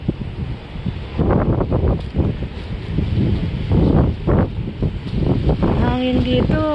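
Wind off the sea buffets the microphone in strong, uneven gusts by the shore, with a voice talking over it.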